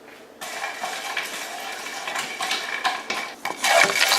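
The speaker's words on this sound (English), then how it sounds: "So just toss this into a dry pan and let it brown a little bit." Spices are stirred and tossed in a dry pan as they toast, with a spoon scraping and clinking against the metal in quick, uneven strokes, close and clear with no voices.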